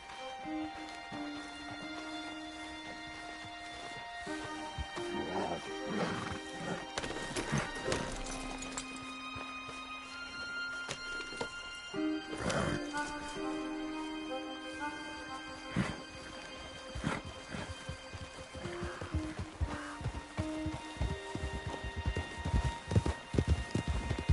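Hooves clop steadily in a trotting rhythm over a long stretch, with a horse neighing now and then amid music and ambient game sounds, in the video game Red Dead Redemption 2.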